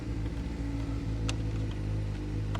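A neighbor's motorcycle idles and rumbles steadily close by outdoors, a continuous low engine drone with no talk over it.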